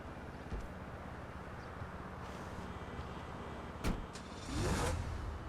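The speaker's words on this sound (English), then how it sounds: "Now let's restore it and jump inside and listen to how the car sounds" The Infernus Classic sports car in GTA 5 Online hums at idle under broad noise, with a brief knock and a rising rev surge near the end.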